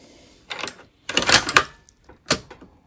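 Bolt of a Romanian MD65 underfolder AK rifle racked with the top cover off, the bolt popping up off its rails: three sharp metallic clacks and slides, close and loud with short pauses between.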